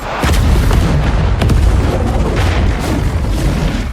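A grenade explodes in the action film The Wreck. A loud, close boom is followed by a heavy, sustained rumbling roar that lasts several seconds, with no speech.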